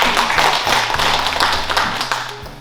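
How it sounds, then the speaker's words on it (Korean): Audience applause for the youngest student at a bonsai class held at an agricultural technology centre, dense and steady clapping from a room of people that fades slightly toward the end. "최연소 저 수강생한테 박수 한번 주세요."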